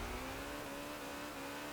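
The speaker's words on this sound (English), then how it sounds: "It's the highest revving engine we've had on this championship." A racing car in Forza Horizon 4 holds a high, sustained engine rev through the whole stretch. It is a steady, loud whine with no talk over it.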